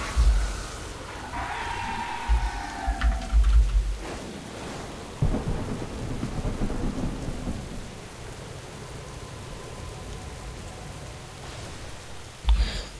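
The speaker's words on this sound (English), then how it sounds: "Oh no, it got really rainy." Thunderstorm weather in the World of Warcraft video game: a deep rumbling roll of thunder at the start, with sharp cracks, then a steady hiss of heavy rain on surfaces that continues throughout.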